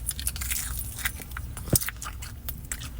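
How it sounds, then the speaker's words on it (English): Crunchy fried chicken bitten into up close, a crisp crackling snap and chewing crunches in a steady rhythm, one sharp loud bite standing out near the middle. "y'all hear that crunch?"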